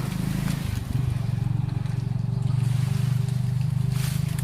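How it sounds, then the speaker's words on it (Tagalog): A motorcycle engine runs steadily close by, a continuous low rumbling drone with a pulsing beat that holds for about four seconds, nearly unbroken, with no talk over it. "may motor, Dangus."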